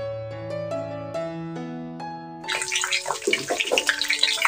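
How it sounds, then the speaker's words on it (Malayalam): Roasted gram and garlic fry in hot oil over a medium flame, a dense crackling sizzle that bursts in partway through after a few seconds of steady tonal background music, then keeps going close and fairly loud. "ഇനി എല്ലാം കൂടി ഇട്ട് ഒന്ന് ഫ്രൈ ചെയ്തെടുക്കുക"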